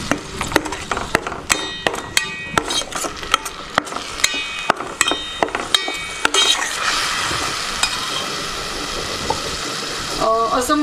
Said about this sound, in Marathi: आता हे आपण तेलामध्ये थोडंसं परतून घ्यायचं आहे